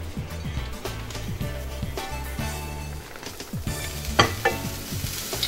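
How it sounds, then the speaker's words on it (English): Coconut flakes toast in a pan on the stove, making a steady sizzle and frying hiss with repeated stirring scrapes throughout, close and fairly loud, with no talking over it. "we're gonna toast it on the stove"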